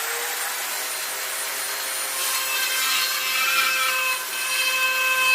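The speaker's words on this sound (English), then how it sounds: "I usually go a little bit deeper with my Dremel tool." A Dremel rotary tool grinds into an old taxidermy mount, giving a continuous high-pitched whine with rubbing, scraping texture that rises slightly and wavers as the bit is pressed deeper.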